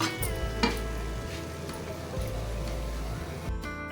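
Boiled eggs dropped into a pan of sizzling onion masala for egg masala, a steady close frying sizzle with stirring scrapes and a brief soft knock near the start.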